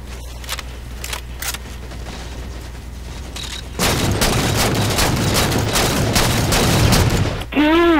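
Assault rifle fire in the Halo 4 video game, sustained rapid bursts that grow louder and denser partway through, with gameplay effects and a rising electronic whoosh near the end.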